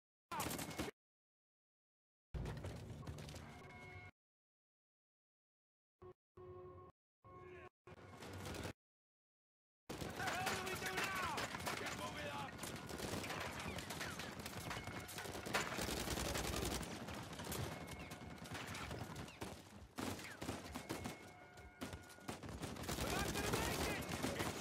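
Gunfire rattles in Uncharted 4, the game audio cutting in and out at first before settling into long stretches of dense, loud shooting with bursts and single shots layered over ambient battle noise.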